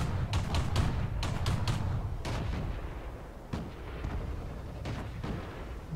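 Tank cannon shots and explosions crack and boom repeatedly in a World of Tanks battle on the Provinciya map, sharp blasts at irregular intervals over a rumbling low background.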